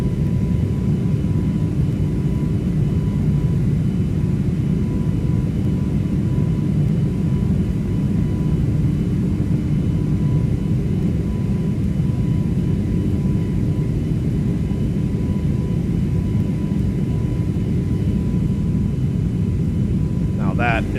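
Engines of an Airbus A321neo in a Toliss flight simulator climb after takeoff, giving a loud, continuous, steady rumble and whir throughout, with voices talking over it.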